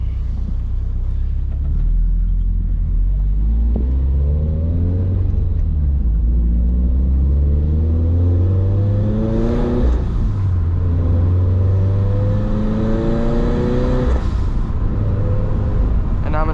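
Turbocharged Subaru BRZ engine droning and rising through revs while driving, a loud, steady in-cabin rumble with repeated climbing pitch sweeps as it accelerates and shifts.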